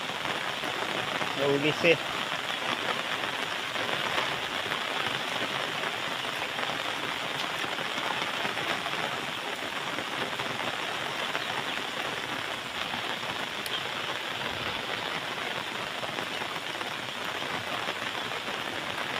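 Heavy rain pours steadily on a farm field, a dense, even hiss lasting the whole stretch, with a voice speaking briefly near the start.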